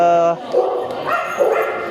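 A male dog gives a few short barks and whimpering yips after a brief tonal sound at the start, at a free dog and cat neutering event.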